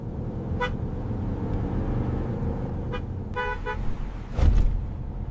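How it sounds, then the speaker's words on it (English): Traffic rumbles steadily at a distance while car horns toot several times: a short honk, another, then a cluster of beeps near the end, with no talk. "A lot of traffic."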